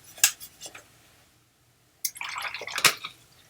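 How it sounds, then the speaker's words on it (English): A worn golden fleece paint palette is scrubbed and rinsed with water. A couple of sharp taps and drips are followed by a pause, then a burst of close wet scrubbing and splashing. "I'm going to take and clean off one area here"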